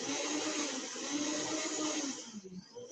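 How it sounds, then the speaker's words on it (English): A kitchen blender whirs steadily while frothing dairy-free no-egg nog, a continuous high motor whine with churning liquid, easing slightly near the end. "So I like to blend it up and get a nice little froth."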